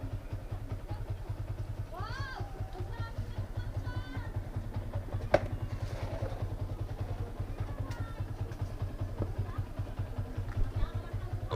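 A motorcycle engine runs at a steady low idle close by, its throb unbroken throughout while a person speaks over it and a brief sharp knock stands out midway.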